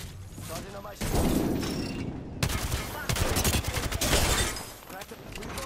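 Rapid bursts of gunfire from an Apex Legends ranked match, dense overlapping shots and automatic fire crackling through most of the stretch, loud and close, with game effects and some voice mixed underneath.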